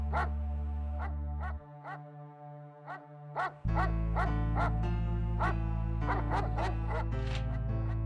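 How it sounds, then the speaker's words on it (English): A dog barks repeatedly in sharp, regular yelps over a steady low droning tone, fairly close and loud. "Why is that dog barking?"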